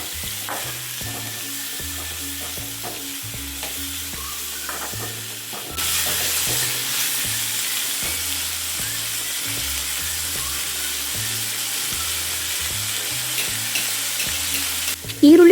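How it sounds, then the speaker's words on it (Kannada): Onions and tomato frying in a pan for obbattu sambar, a loud continuous sizzle with steady stirring throughout, getting brighter and more intense partway through, close and with no talk. "ಈರುಳ್ಳಿ ಎಲ್ಲ ಫ್ರೈ ಆದ ನಂತರ ಅದಕ್ಕೆ 1 ಟೊಮೊಟೊ ಹಾಕಿ ಅಗೇನ್ ಫ್ರೈ ಮಾಡ್ಕೋಬೇಕು."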